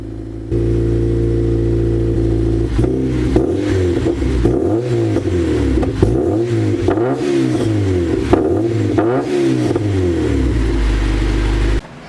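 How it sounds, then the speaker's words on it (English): Boosted Honda K-series engine with a new muffler exhaust starting low then revving repeatedly in several rising and falling pulls, loud and close, with no talk. "Here I'm doing a quick check for leaks before I rev it to see how it sounds."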